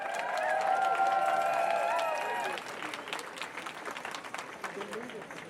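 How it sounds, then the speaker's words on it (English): A crowd gives a big round of applause at a rally for Grassy Narrows First Nation, fairly loud clapping and cheering in the first half, then thinning to scattered claps and murmurs. "Big round of applause."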